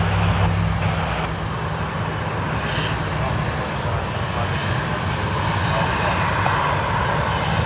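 An airliner taxis at Sydney Airport, its engines a steady, loud, broadband roar that holds evenly throughout, close by and with no voices over it.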